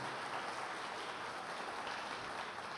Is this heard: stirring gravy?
no